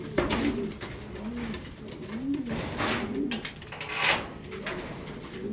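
Stock pigeons coo repeatedly inside a loft, several birds giving soft overlapping rolling calls in a steady rhythm close by, with rustling and faint background noise and no speech.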